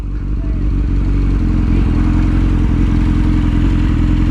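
Motorcycle engine running steadily with a low, throbbing mid-pitch drone, loud and close, holding a constant revving hum throughout without pause.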